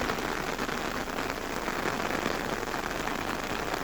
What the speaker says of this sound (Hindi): जंगल में कुछ दिन ऐसे होते हैं जिन दिनों यहाँ पूरे दिन भर बारिश होती रहती है